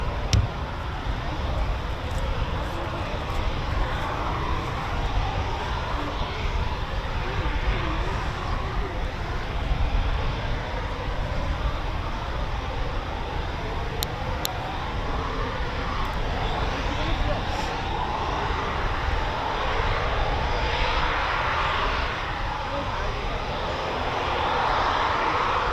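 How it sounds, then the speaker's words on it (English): Eurofighter Typhoon FGR4 jet roaring through a night performance takeoff at RAF Coningsby, a continuous, broad engine rumble heard from a distance that holds steady throughout, with faint sounds of people nearby. "Oh, wasn't that just lovely to get a performance takeoff"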